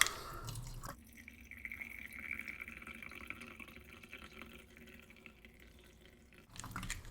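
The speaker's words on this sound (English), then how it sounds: "the reason the pour is so slow on that is it's not really a thermos, it's just like a water bottle" Tea pours slowly from a water bottle in a thin, steady trickle for several seconds, with a soft liquid gurgle, framed by brief rustling before and after.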